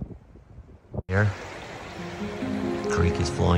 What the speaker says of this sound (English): the creek is flowing beside us.